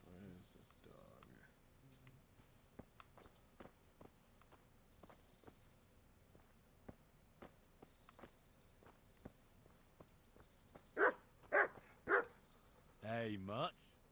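In Kingdom Come: Deliverance, a dog barks a few loud sharp times near the end, after a stretch of soft footsteps and hoof clip-clops, with a voice speaking in between.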